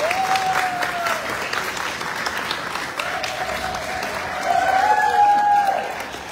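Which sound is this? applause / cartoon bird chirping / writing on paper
applause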